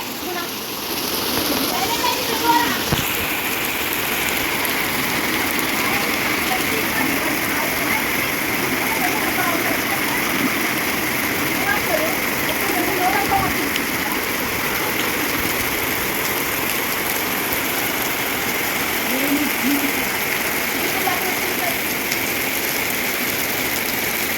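Heavy rain and wind from a storm strong enough to bring down a house roar steadily and close, a dense unbroken wash with occasional gusting swells and faint voices talking underneath.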